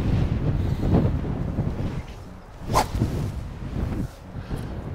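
A golf club swings and strikes the ball on a course for a fade shot, a single sharp crack and whoosh near the middle against breezy wind noise, with no talk.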